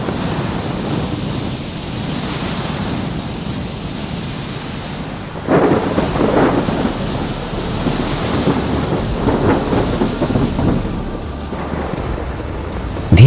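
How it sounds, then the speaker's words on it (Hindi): A thunderstorm at sea with a ship in the storm, a continuous roar of wind, rain and surf with rumbling thunder surging louder midway, loud and enveloping without voices. "धीरे धीरे तूफान और तेज होता जाता है और जहाज डूबने लगता है।"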